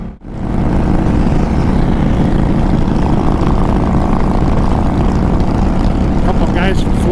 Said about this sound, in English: V-twin engine between my legs and a full tank of gas